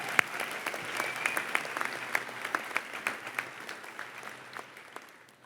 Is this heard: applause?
yes